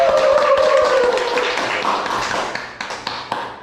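Classroom clapping gives fast, dense taps that start loud and thin out into a few scattered claps as they fade.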